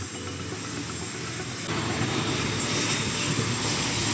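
An airplane engine runs at an airport in Flores, a steady loud roaring drone with a broad hiss that swells slightly partway through, with no talk.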